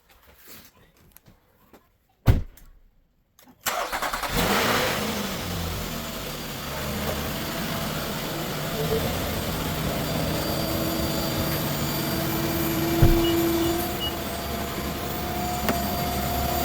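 A car engine, just fitted with a replacement radiator fan, starts with a steady drone after a few seconds of quiet clatter and runs on evenly, with a brief louder bump near the end.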